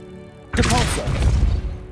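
The Depulso repelling spell goes off in the Hogwarts Legacy video game, a sudden loud whooshing blast with a crashing impact that rings for over a second.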